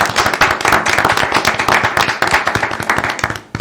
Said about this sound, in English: Can we all give them a round of applause for stepping up?